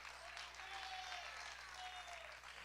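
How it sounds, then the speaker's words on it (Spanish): A church congregation claps their hands in praise together, a continuous dense wash of applause holding steady throughout with no speech over it. "le damos palmas de alabanza a nuestro Dios, hermano"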